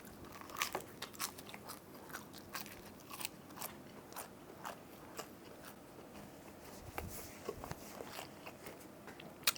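Close, crisp biting and crunchy chewing of bacon cheddar jalapeno pizza with dill pickles, repeated irregular crunches over several seconds with no talking.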